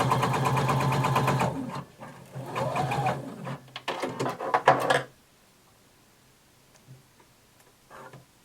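A home sewing machine stitches a skirt vent at an angle toward the seam, running in a fast steady hum of rapid needle strokes, then pausing and starting again in short bursts before stopping, leaving a few faint clicks.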